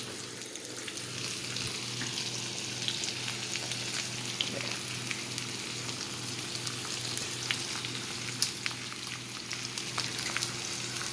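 Italian lamb chops frying in a pan give off a steady, close sizzle and crackle with scattered pops, running continuously without any talking.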